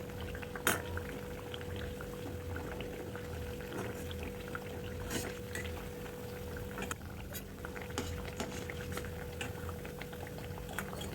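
Vadas fry in oil until golden brown, a steady low bubbling and gentle sizzle with occasional faint pops and clicks, moderately quiet and unbroken.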